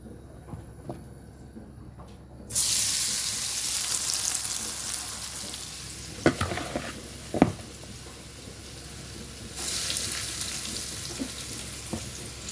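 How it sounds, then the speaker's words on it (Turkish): Loud, steady sizzling of cornmeal-coated potato slices dropped into hot oil, with a couple of sharp clatters partway through and the crackle swelling again near the end. "patateslerimi artık kızgın yağ atabilirim"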